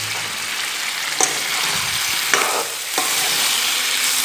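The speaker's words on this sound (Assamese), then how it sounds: "ভালকৈ মিলাই লৈ ভাজি থৈ দিম" Mutton curry ingredients stir-fry in a pan with a loud, continuous sizzle, broken by a few sharp scrapes and knocks of a spatula against the pan; no talking.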